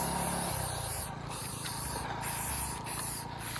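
An aerosol can sprays a steady, close hiss over old car parts such as the brake pump, accelerator pedal and light switch, with the jet pausing briefly three times before resuming.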